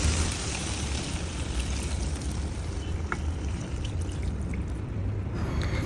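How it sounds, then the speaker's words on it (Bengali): Broth poured into a pan of shapla (water lily stems) and hilsa curry, a steady soft pouring rush that runs for several seconds at moderate, even loudness without talk. "দিয়ে দিলাম পর্যাপ্ত পরিমাণের ঝোল"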